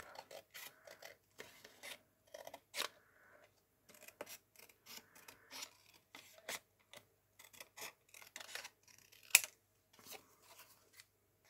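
Scissors snip through paper card, cutting out a handmade witch-hat box for Halloween, in a quiet, close series of short crisp cuts with brief pauses between them.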